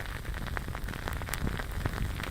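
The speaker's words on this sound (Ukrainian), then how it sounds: "це звук багаття" Dense, continuous crackling and popping like a campfire, close and steady, with sharp snaps scattered throughout.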